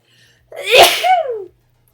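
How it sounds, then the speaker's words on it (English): A single sneeze, close and fairly loud, with a sharp intake building into a burst and trailing off, surrounded by quiet. "I'm gonna sneeze."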